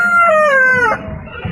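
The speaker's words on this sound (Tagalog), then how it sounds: "Ngayon, tilaok ng manok." A rooster crows once, loud and close, its long call sliding down in pitch before cutting off, followed by faint rustling in a rural backyard.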